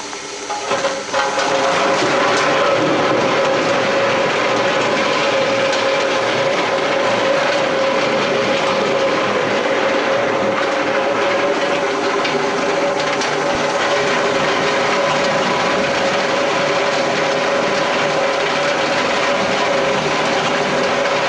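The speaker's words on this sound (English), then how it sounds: "This time we are delumping mango half slices. Again, we're running with a 196 Comil." Quadro 196 Comil mill running near 600 RPM while delumping mango half slices, a loud, constant mechanical hum and hiss with a steady tone, with no talk.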